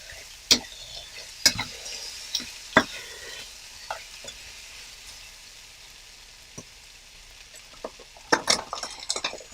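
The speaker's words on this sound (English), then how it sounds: "Saute again." Chicken with tomatoes and oyster sauce sautéing in a pan, a steady sizzle broken by sharp scrapes and clinks of a utensil stirring, heaviest near the end, with no voices.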